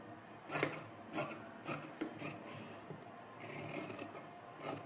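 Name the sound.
cutting off excess fabric while tailoring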